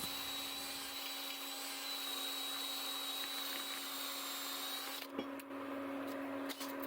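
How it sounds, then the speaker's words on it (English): Drill spinning a wire brush attachment to clean out engraved lettering, a steady high whirring hum with faint scratchy brushing, cutting off abruptly near the end, followed by a few clicks. "I like to use just the normal wire brush attachment. On a drill will do fine."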